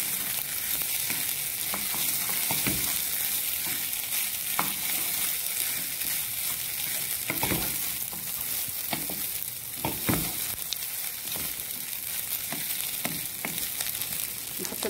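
Water goes into a pot of rice and lentils seasoned with salt and pepper. It makes a steady broadband hiss and sizzle with scattered clinks and scrapes, close and moderately loud, with no talking.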